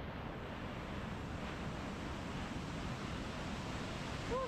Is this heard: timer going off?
no